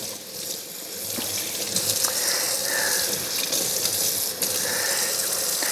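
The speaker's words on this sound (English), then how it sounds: "So I'm going to rinse them off real good." Tap water gushing steadily into a sink to rinse brine off salmon fillets, a continuous close splashing stream with small shifts as the fish is handled.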